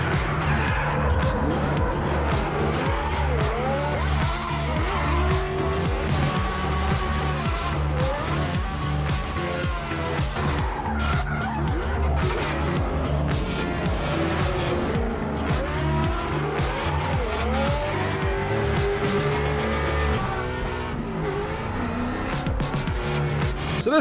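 A Monster Energy Mustang race car with over 900 brake horsepower drifts with continuous loud tire squeal and a howling, revving engine that rises and falls for about twenty seconds, close and unbroken.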